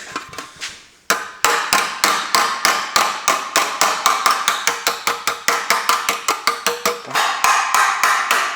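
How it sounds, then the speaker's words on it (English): Loud, evenly spaced hammer blows ring on the sheet-metal rear body of an Austin J40 pedal car under restoration, about three per second after a brief quieter start, close up and without speech. "So don't hammer too much because you'll stretch it."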